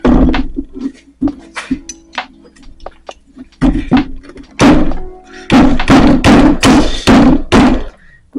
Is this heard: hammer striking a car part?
yes